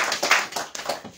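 A church congregation applauds in quick, uneven claps, a short close burst of hand clapping with no talk.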